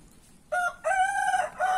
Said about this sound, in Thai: นี่ไก่นายพราน